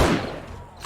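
AK rifle fire in 7 Days to Die during a horde night: a loud, close burst of gunshots at the very start that quickly fades into a rumbling decay.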